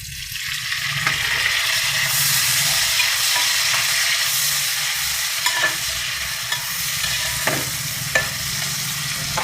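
Onion and tomato pieces sizzle and fry in a pan, a steady loud hiss broken by scraping stirs that recur every second or two, with no voices.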